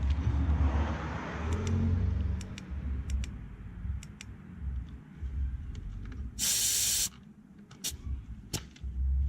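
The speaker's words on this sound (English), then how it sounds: "I wanted to see if this is correct tire pressure." Air hisses from a BMW 328d F30 tire valve during a pressure check, a short loud burst in the middle, with soft handling clicks and taps around it.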